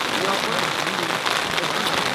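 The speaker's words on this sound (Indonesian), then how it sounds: "Kondisinya hujan." Rain falls on a lightweight two-person tarp tent, a dense, steady hiss of drops drumming close on the fabric without letting up.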